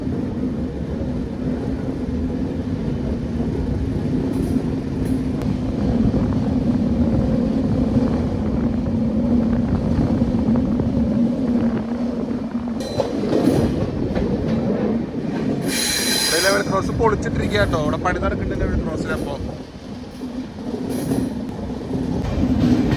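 The Kozhikode Jan Shatabdi Express with a new LHB rake rolls into platform two at Kollam Junction with a loud, steady rumble, a sharp high squeal breaking through midway, and someone speaks over it.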